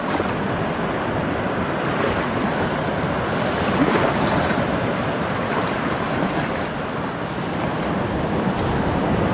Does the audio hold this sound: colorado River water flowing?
yes